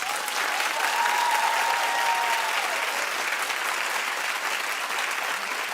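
A television talk show studio audience bursts into loud, dense applause that holds steady for several seconds with no break, close and full.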